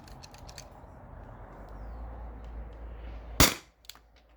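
A single sharp, loud shot from a T4E HDP50 launcher running on a 20oz CO2 tank, with a faint hiss building before it and a quick mechanical click after, otherwise quiet.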